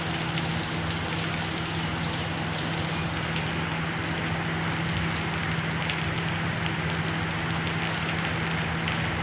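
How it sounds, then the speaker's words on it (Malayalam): Heavy rain falls steadily throughout in the Gulf region, a dense continuous patter with a constant low hum underneath and no voices. "മഴ ഇതാ പെയ്തുകൊണ്ടിരിക്കുന്നു"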